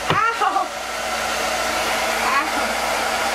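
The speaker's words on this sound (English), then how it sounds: "And then I'm gonna go ahead and blow dry this so that it sticks." A blow dryer runs loud and steady while drying a lace front wig, its whooshing airflow continuous after a person's brief pained yelps at the start.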